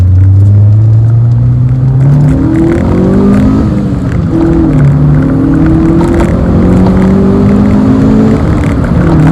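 Rover 416 GTi engine revving hard toward 7,000 RPM, loud and close, with rising and falling harmonic sweeps as the revs climb and drop repeatedly over a steady rumble, no speech.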